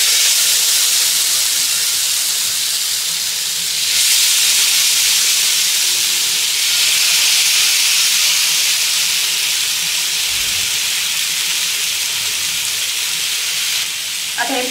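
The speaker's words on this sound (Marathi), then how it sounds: "त्यामुळे मी फक्त इथं अर्धा चमचा तेल घेतलेला आहे टाकून। आता त्याच्यावरती आपण तयार केलेलं हे पनीर टिक्का ठेवून घेऊयात।" Paneer tikka sizzles in half a spoon of oil on a hot pan, a continuous bright hiss that gets louder partway through and holds steady, with no voices.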